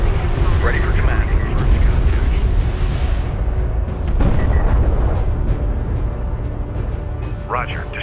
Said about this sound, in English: Hostile bomber destroyed.